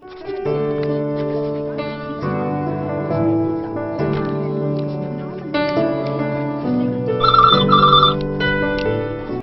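A melodic phone ringtone chimes over steady background music, its repeated high tones clearest near the end.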